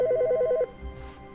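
A phone in The Stanley Parable gives a rapid warbling electronic ring, loud and close, that cuts off after under a second, leaving a low hum.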